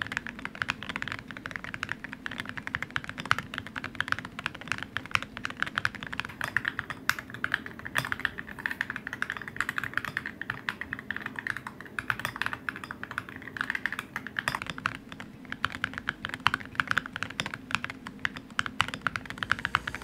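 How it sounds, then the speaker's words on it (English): Steady typing on an upgraded custom Razer mechanical keyboard, a close, continuous run of crisp key clicks and clacks at an even pace, heard alone without any voices. "and this is how it looks and sounds."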